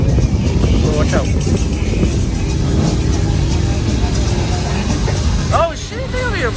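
Trucks doing burnouts at a truck meet fill the air with loud, sustained engine roar and tire noise, with people shouting and talking over it close by.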